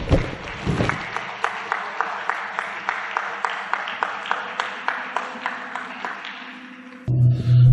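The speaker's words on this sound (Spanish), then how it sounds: "a quien le pido un cariñoso y fraternal aplauso" Audience claps warmly and steadily for a fraternal ovation at a spiritual gathering, a dense run of applause that tapers before a brief tonal hum takes over at the end.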